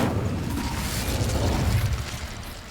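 An Incendio fire spell cast in Hogwarts Legacy produces a dense, roaring whoosh of flame that holds loud and steady, then tapers slightly at the end.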